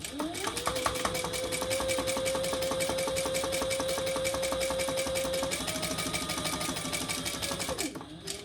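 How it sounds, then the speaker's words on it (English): A sewing machine runs steadily, top stitching folded fabric in one continuous run of about eight seconds with a slight rise in speed near the end before stopping. "Then we'll top stitch it."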